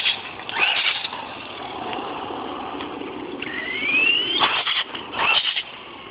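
A Duratrax Evader EXT2 RC car with a Tacon 3200KV brushless motor on a 3S LiPo gives short throttle bursts, its high electric whine rising and falling in pitch over a steady background hum.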